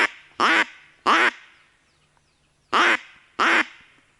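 A duck call blown during a duck hunt in a forest by a river: four loud, nasal quacks in two pairs with a pause between, each fading into a short echo over near silence.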